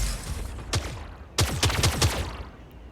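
Rapid gunfire in a mech video game: a short single shot, then a quick burst of five or six sharp punchy shots close together, over steady background noise.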